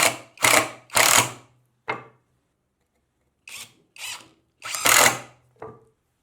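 A Mensela EW-L1 18V cordless 3-in-1 driver drives a screw in loud, close bursts: three quick whirring runs, a short blip, then shorter pulses and a final longer run, with no talk.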